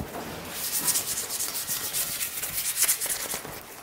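A rotary sander grinds steadily on a workpiece during bodywork before painting, a continuous gritty rubbing hiss with slight pulsing, close and alone without talk.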